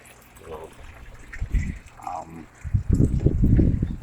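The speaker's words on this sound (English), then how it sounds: "everything flows down into this sump. This is a sump tank" Water flowing down into a hydroponic sump tank, a soft trickling and splashing that grows louder and fuller toward the end, with a person talking over it.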